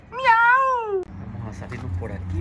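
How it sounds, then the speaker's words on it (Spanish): A kitten gives one long, loud rising-and-falling meow close by, cut off abruptly, followed by lower background voices and a fainter second mew from a pair of kittens indoors. "Dos gatitos haciendo el miau miau, miren."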